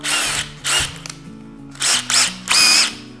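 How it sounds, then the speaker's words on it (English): A drill boring a dowel hole in wood runs in short, separate bursts of whirring with gaps between them, close and fairly loud. "to drill out the hole for the dowel"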